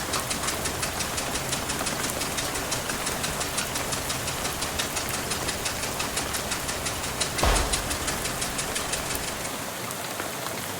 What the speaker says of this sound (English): the bus steadily judders to a stop